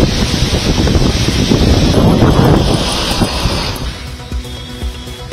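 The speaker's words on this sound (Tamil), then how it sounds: "சென்னை மற்றும் புறநகர் பகுதிகளில் நேற்று மாலை சூறைக்காற்றுடன் கொட்டிய மழை" Heavy rain driven by strong gusty wind in Chennai and its suburbs roars as a loud, dense wash of broadband noise that eases somewhat toward the end.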